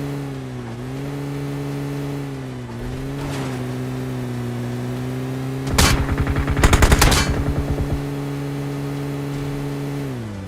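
Automatic gunfire bursts out in PUBG, a rapid crackling volley over a steady droning vehicle engine that keeps running throughout.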